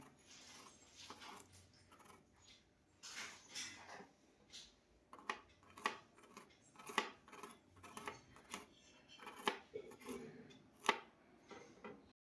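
Garlic is chopped finely with a knife: a quiet, close series of quick, uneven taps on a cutting board that speed up into a rapid patter, with no talking.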